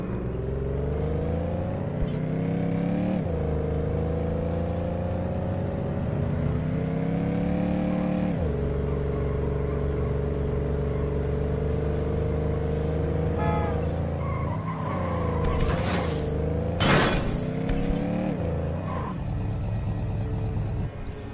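Car driving in The Godfather game, a 1940s-style Corleone family car: a continuous engine drone that climbs in pitch through several gear shifts, with brief sharp screeches and bursts near the end.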